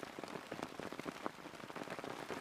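Soft, steady downpour of rain with dense pattering drops and scattered sharper taps, faint and close, with no voices.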